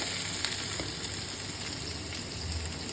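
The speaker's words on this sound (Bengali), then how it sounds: "এই দেখো পেঁয়াজ রসুন একদম ভাজাভাজি চলছে" Onion and garlic fry in a pan with cumin and dried chilli, giving a steady, close, crackling sizzle that holds evenly throughout with no voices.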